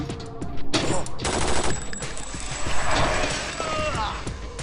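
Gunfire in the video game Vampire: The Masquerade, dense rattling bursts of shots that run almost continuously, with voices speaking over the clatter.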